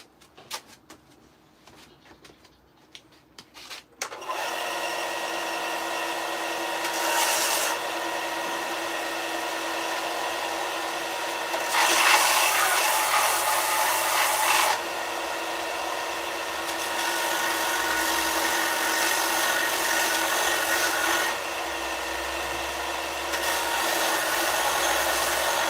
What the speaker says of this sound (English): So I put the belt sander in the Jawhorse.